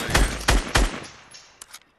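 Three heavy gunshots ring out in Fortnite in a quick, even rhythm, then come fainter, more distant pops as the sound fades.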